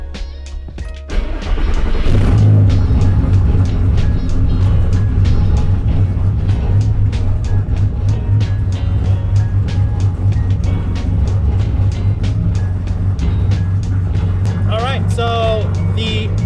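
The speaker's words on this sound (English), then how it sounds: "I'm going to let this car warm up" A 12-valve VR6 engine in a Mk1 Jetta starts and settles into a steady, loud idle as it warms up, with a low, even drone close by and faint voices near the end.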